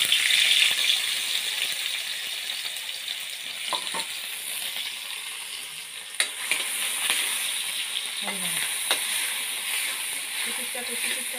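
Onion and bay leaf fry in hot oil with a steady, close sizzle that hisses on throughout, broken by a few faint knocks of utensils.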